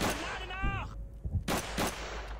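Gunfire in the 2006 video game Call of Duty 3 on PS3: a brief voice, then a few sharp, loud shots in quick succession.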